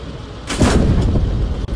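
Sherman tank main gun firing in the Post Scriptum war game, an amphibious Sherman, a single loud, deep boom that rolls on into a long rumbling tail after a brief quiet lead-in.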